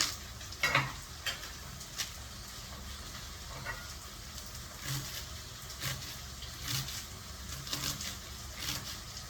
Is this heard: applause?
no